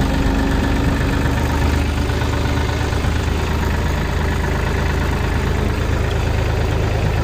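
A Massey Ferguson 240 tractor's diesel engine idles steadily and continuously at close range, a constant rumbling drone with no speech over it.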